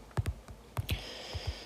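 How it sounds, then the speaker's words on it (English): Typing on an iPad touchscreen keyboard gives a handful of soft, irregular taps spread over under two seconds, faint and close with no talk. "Sorry, I'm not used to typing on my iPad."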